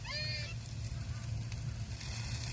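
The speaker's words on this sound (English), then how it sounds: "Sauteing some onions." Onions sauté in a pan on a van's cooking setup, giving a faint, steady sizzle that continues throughout at a low level.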